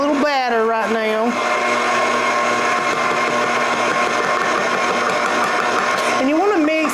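A stand mixer works yeast dinner roll dough, a steady loud motor whir running throughout with a brief voice over it at the start and end.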